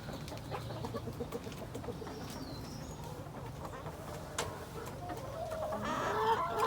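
Hens cluck and murmur together inside a crowded backyard chicken coop, a close, busy chorus of short clucks and calls that grows slightly louder toward the end.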